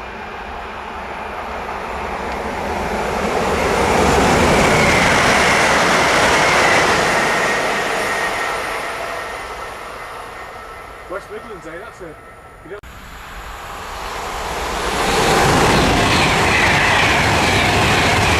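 A train rolls past on the West Coast Main Line at Acton Bridge, a loud swelling rumble with clattering wheels that fades and then rises again as another passes, while people chat nearby.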